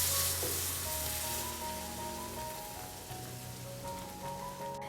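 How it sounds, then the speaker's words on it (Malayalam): Boiling water poured onto roasted semolina for rava kesari makes a steady, close sizzling and bubbling, with a faint stirring scrape and a low hum underneath. "ഇതുപോലെ തിളച്ച വെള്ളം ചേർത്ത് കൊടുക്കുമ്പോൾ തിളച്ചുകൊണ്ടേയിരിക്കും നമ്മുടെ ഈ റവയും."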